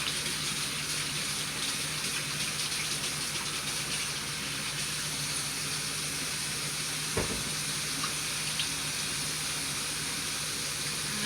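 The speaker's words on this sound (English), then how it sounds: "what we're waiting on is the bacon to cook. You want that to get a little bit more crispier." Bacon frying in a pan, a steady broad sizzle held close and even throughout, with one brief knock partway through and no talking.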